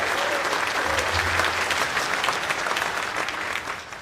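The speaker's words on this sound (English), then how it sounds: "Mrs. Smikowski, who deserves a great round of applause" A school audience claps for a pianist at an elementary spring concert, steady and dense applause continuing evenly at moderate loudness.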